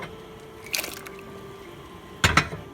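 Soaked red peas and water for Jamaican rice and peas are poured into a pot in two short splashing bursts, each with a wet, rattling spill, heard close with no talking.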